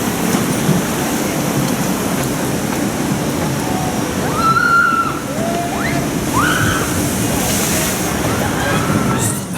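Water rushes and sloshes steadily on the Dragon Falls log flume at Chessington at night, a loud continuous roar with some faint distant tonal squeals over it.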